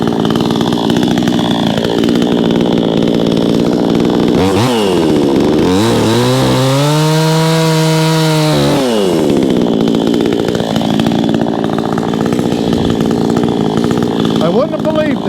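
A Vevor 20-inch gas chainsaw roars loud and close, cutting wood with the engine bogging under load and then revving back up, its pitch rising and falling throughout.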